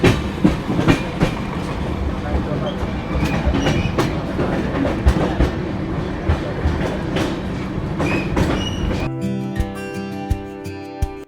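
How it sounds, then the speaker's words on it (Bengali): A Howrah–Ahmedabad express train pulls into Gondia Junction station, with loud, steady rail rumble and repeated clickety-clack wheel beats from close by, and a harsh, tonal screech near the end as it slows. "আমরা এখন গুন্ডিয়া জংশন স্টেশনে ঢুকে গেছি।"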